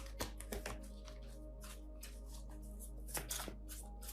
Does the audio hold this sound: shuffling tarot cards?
yes